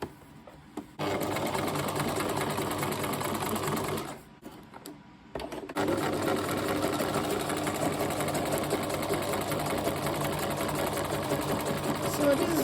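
A sewing machine stitches a straight line, running in a steady rapid whir for several seconds, pausing briefly, then running again at length, with a person talking over it.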